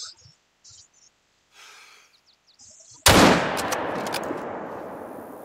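A single loud rifle shot fired at a mountain goat cracks sharply after faint rustling and quiet breaths. Its echo rolls on and slowly decays across the open terrain.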